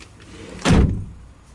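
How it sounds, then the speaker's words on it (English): Rear door of a 2012 Toyota FJ Cruiser swinging shut with a single solid thud and brief rattle, close by and loud against a quiet background. "let me close the rear door here"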